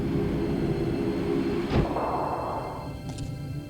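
A steady rumbling ride on an alien subway train in the adventure game The Dig, with a brief sharp clank partway through and a faint high ringing near the end, no voices.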